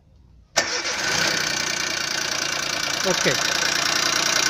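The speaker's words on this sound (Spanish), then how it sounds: "prende el motor" A car engine cranks and catches, then settles into a rough idle whose revs waver up and down, a high-voltage leak at the number 1 spark plug making it run unevenly; a brief voice speaks near the start.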